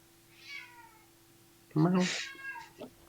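A pet cat meows close by, first a short thin cry, then a louder, strained drawn-out yowl followed by a smaller one, with a faint steady hum underneath.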